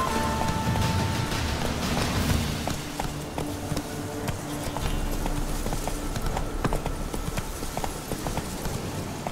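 Horse hooves clip-clop steadily on wet ground during a rainy ride in the video game Witcher 3, with rain hiss underneath; a rider's voice is heard briefly.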